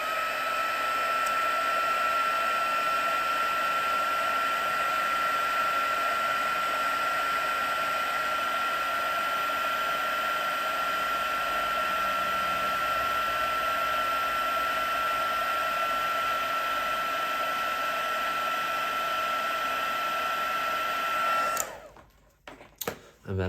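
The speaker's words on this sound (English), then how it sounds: "So I'm just gonna heat emboss that now." A heat gun blows steadily and loudly for about twenty seconds, melting embossing powder on a handmade card, with a strong constant whine and airy roar, then cuts off abruptly near the end.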